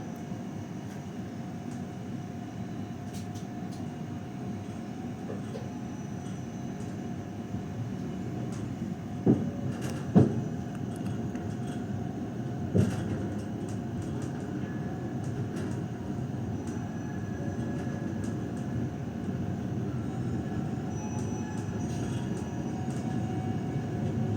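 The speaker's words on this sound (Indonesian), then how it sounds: "kereta api Gumarang berangkat dari stasiun Semarang Tawang" The Gumarang passenger train pulls out of Semarang Tawang station with a low steady rumble and hum, a few sharp clanks and knocks around the middle, and rolling noise that holds at an even level throughout.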